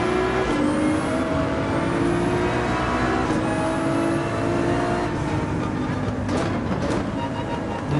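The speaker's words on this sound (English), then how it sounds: "Full throttle through this section, complete outside, to the inside." Porsche 911 GT3 engine at full throttle on the Mount Panorama circuit in Gran Turismo 7, a loud, sustained high-revving howl with rising pitch sweeps and brief gear-change dips throughout.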